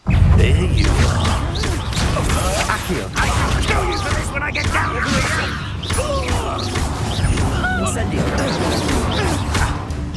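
Spellcasting in the Hogwarts Legacy video game, with a Stupefy stunning spell among loud magical whooshes, crashes and impact thuds from a fight against thugs, while voices shout over the busy combat.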